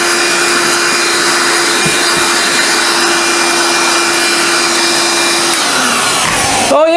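A DeWALT DCV517B battery-powered vacuum whines steadily up close as it sucks dryer lint off a filter, then winds down with a short rattling clatter at the end.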